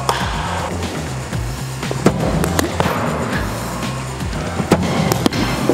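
A cricket ball strikes a batter's thigh pad with a few sharp, hard knocks spread across steady outdoor background noise during a batting session.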